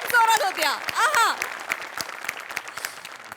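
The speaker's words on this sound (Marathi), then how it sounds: "आणि निर्मिती ताईंसाठी या स्पेशल वाला टाळ्या" Applause rises for a stage comedy performer on a Marathi comedy show, a spread of crowd clapping that starts under a voice and continues more evenly after the talk drops.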